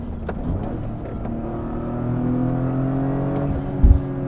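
A Toyota GR Corolla engine hums steadily while driving, a low droning tone that swells slightly, ending with a brief thump.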